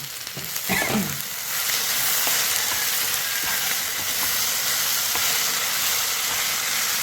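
Okra cooks in a pan on low heat with a steady bright sizzle, a spoon scraping and stirring through it in a few brief clatters near the start.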